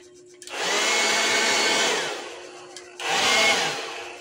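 A battery-powered electric 2-in-1 blower and vacuum whirs loudly for about two seconds, winds down, then starts up again in two strong bursts, close by.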